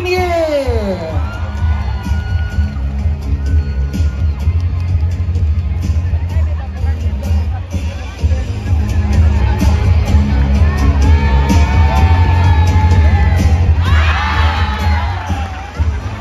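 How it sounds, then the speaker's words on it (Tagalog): A large crowd at a political grand rally in Kidapawan cheers and shouts with children's voices prominent, a loud continuous roar of excitement with whoops rising toward the end. "A round of applause please for for City Councilor Engineer Peter Sala."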